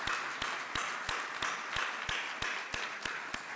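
Audience applause at a community foundation's 35th anniversary celebration, a dense, steady wash of clapping with faint periodic thumps running underneath, sustained throughout.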